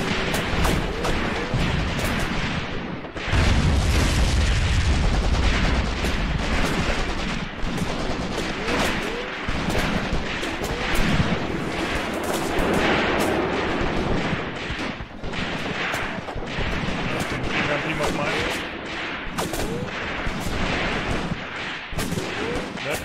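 Dense, sustained gunfire and artillery rumble from an infantry firefight in the war game Graviteam Tactics on a foggy morning, with overlapping shots and blasts continuing loudly throughout with no pauses.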